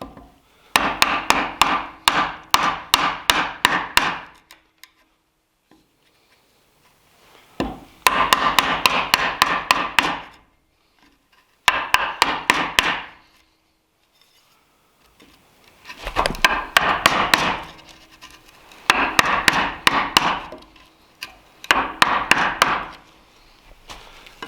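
A mallet drives a chisel into timber to cut a brace mortise for a timber frame. Bursts of rapid, close, sharp wooden knocks come in about seven groups, with short quiet pauses between them.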